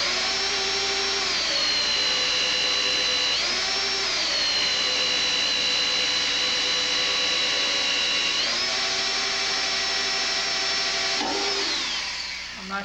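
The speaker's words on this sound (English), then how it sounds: "if you pick a sharp bit, it'll drill through there" A power drill whines steadily, its pitch dropping and rising as the bit bites into a metal auxiliary fuel tank for a Honda ST1100 motorcycle, loud and close, running almost continuously.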